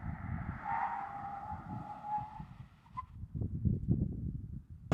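Steady low road and tire rumble with a soft wash of wind fills the cabin of a moving Mahindra electric car, with no motor sound; a faint whistle fades early, then a heavier, bumpier rumble follows.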